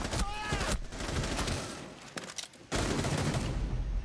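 Bursts of gunfire in the video game Rainbow Six Siege, a few rapid shot volleys separated by short pauses, moderately loud and close.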